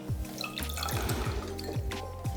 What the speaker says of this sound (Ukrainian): Розрізаємо їх і зараз будемо вичавлювати сік